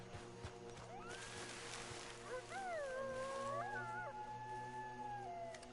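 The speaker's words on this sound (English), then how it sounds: "Two stupid dogs by the sound of it." Dogs howl in Red Dead Redemption 2, two animals giving long rising and wavering cries over a steady game ambience, carrying from mid-distance and overlapping in the middle stretch.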